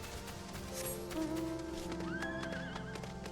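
A horse whinnies in the Final Fantasy XIV video game, a rising and wavering call over clip-clopping hooves, under game music with a voice speaking faintly.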